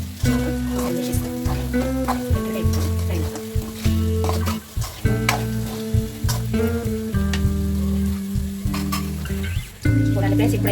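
Chicken fry with spice powders sizzles in a pan, a constant hiss running beneath loud, tuneful background music for the whole stretch.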